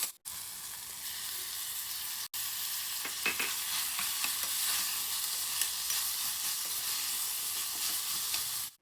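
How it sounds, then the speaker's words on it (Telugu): Moong dal and spinach fry in a pan for a wheat rava upma, giving a steady, close broadband sizzle with scattered stirring clicks and scrapes, no talking throughout. "ఇప్పుడు ఇది కొంచెం ఒక్క నిమిషం ఫ్రై అయిన తర్వాత ఈ పెసరపప్పును కూడా వేసేసుకుని ఒక్కసారి ఈ విధంగా ఫ్రై చేసుకుని"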